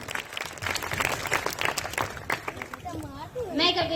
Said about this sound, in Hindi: उनका तालियों से स्वागत किया